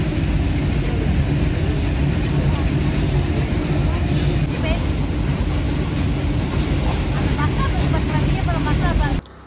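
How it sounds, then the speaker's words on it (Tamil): A continuous loud rumbling and clattering of a passing train, steady throughout with wind buffeting the microphone. "எங்களுக்கு முன்னாடி ட்ரெயின் போகுது."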